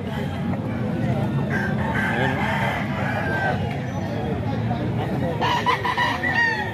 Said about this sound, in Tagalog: Gandang manok to, alimbuyugin.